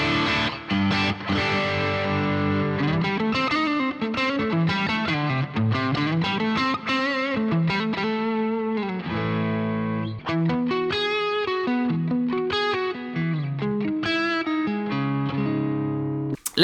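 Electric guitar played through a Boss GT-1000 multi-effects unit on a high-gain amp model, thick distorted tone with riffs, sliding lines and sustained chords, continuous and loud with no speech.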